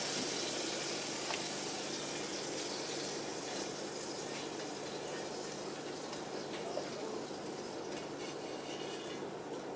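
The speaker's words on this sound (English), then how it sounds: "it actually sounds like it's frying in there" Fried green tomatoes sizzle inside an air fryer, a steady hissing crackle with a low fan hum underneath, continuous and close.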